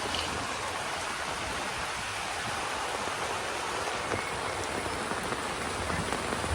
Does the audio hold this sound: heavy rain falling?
yes